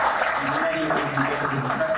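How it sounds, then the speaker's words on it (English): Audience applause at an e-waste collection project media launch, dense clapping under a voice that talks across it. "A loud applause for the director."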